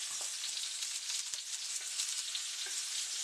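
Blackened salmon and shrimp frying in a pan, a steady, soft, bright sizzle with faint crackles and pops throughout, close but not loud, with no talking.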